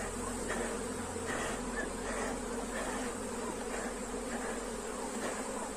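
A honeybee swarm buzzes steadily in its hive, a dense continuous drone that stays even and close throughout with no other sounds.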